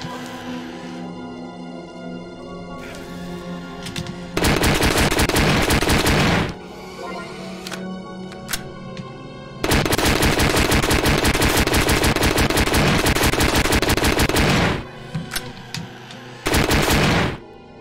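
Rapid automatic gunfire from the horror video game Puppet Combo SPIDERS, loud sustained bursts of a few seconds each separated by quieter gaps with game music and ambience.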